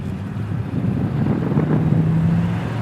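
A 1969 Oldsmobile Cutlass driving, its engine a steady, smooth low hum under loud wind and road noise as heard from inside the moving car.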